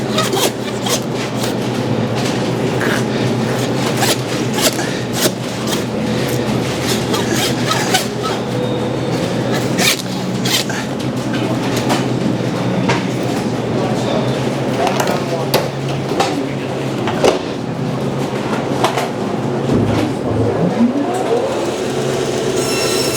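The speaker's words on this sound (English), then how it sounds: "And I'll follow that with the handsaw." A handsaw cuts through a beef chuck in a butchery setting, with rapid, continuous rasping strokes that run loud and close for over twenty seconds and do not let up.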